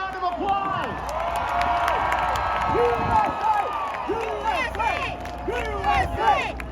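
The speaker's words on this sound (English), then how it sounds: "Give him a big round of applause" A huge outdoor rally crowd in Florence, Arizona applauds and cheers for the President, a loud sustained roar of clapping with whoops and shouted calls rising and falling throughout.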